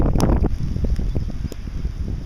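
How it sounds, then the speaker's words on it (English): Gusty storm wind buffets the microphone outdoors among tree tubes packed into the ground, a rough, continuous low rumble with fluctuating surges and scattered rustling. "The storm is just blowing over our heads now, but boy, there's quite a few gusts certainly"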